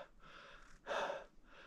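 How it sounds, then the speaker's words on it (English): Labored, heavy breathing from a hiker climbing uphill on the Appalachian Trail, close to the mic, with steady rasping breaths and one louder gasping inhale in the middle. "As you can hear, my breathing is very labored."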